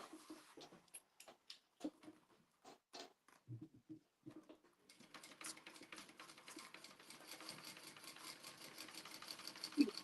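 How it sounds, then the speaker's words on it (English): A sewing machine stitching fabric straight across, first in short stop-start bursts of needle clatter, then a steady fast whirring run that continues to the end, close and clear. "now I'm going to sew that all the way across"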